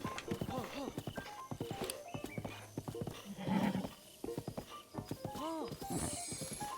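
A horse in the video game Breath of the Wild clip-clops along and whinnies, the hoofbeats and neighs sitting under nearly continuous talking.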